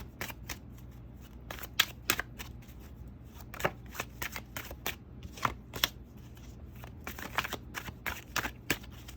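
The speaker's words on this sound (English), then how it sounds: "I just want to shuffle these bad boys up really well." Tarot cards are shuffled in quick bursts of crisp, riffling snaps and soft slaps, close up and repeated, with short pauses between.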